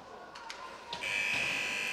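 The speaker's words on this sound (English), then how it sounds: "Buzzer goes, and that will do it for the second period" Period-end buzzer at a women's ice hockey game (WNIHL Elite, Whitley Bay vs Guildford Lightning) sounds loud and sustained from about one second, a steady electric drone filling the arena after brief crowd noise.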